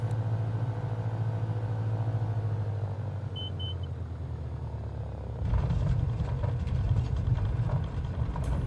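Aircraft engine drone in Microsoft Flight Simulator, a steady low rumble that grows louder and rougher at touchdown as the wheels meet the runway, with no talk.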